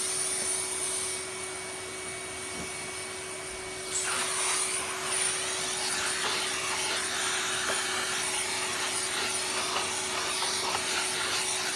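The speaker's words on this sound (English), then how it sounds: "Get the vacuum on that." A vacuum cleaner runs steadily close by while cleaning the exposed motor of an Electrolux Turbo 2 canister vacuum, a continuous whine that grows louder and harsher partway through as the nozzle works the motor, with no talk.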